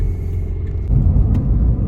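A Toyota Prius 20 running roughly and shaking while being driven, heard as a steady, heavy low rumble close up that grows louder and rougher partway through.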